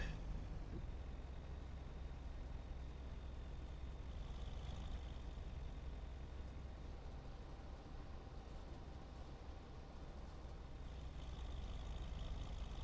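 Mercedes-Benz truck engine in the video game Farming Simulator 25 drones at a steady idle, a continuous low rumble with a faint whine, with no talk over it.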